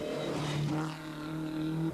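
A Porsche 911 rally car competes in the exotic historics class of the 1991 Circuit of Ireland Rally, its engine droning steadily at a fairly loud level with a brief shift in pitch partway through.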